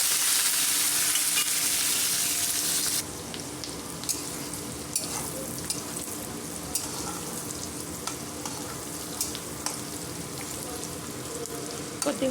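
Onions hit hot oil with mustard seeds, cumin and a little fennel in a pan, giving a loud sizzle at first that settles into steady frying with occasional stirring clicks.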